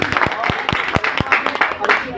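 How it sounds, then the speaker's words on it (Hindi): Scattered claps from an audience at a ceremony, a handful of sharp individual hand claps in an uneven rhythm, with a voice talking over them. "जोरदार तालियां"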